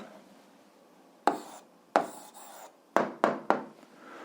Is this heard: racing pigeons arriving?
no